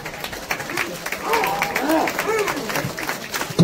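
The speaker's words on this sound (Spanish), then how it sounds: "Un fuerte aplauso, por favor, una vez más." Crowd applause at a devil dance performance, busy clapping and cheering under an announcer's voice, with a few shouted calls rising above it.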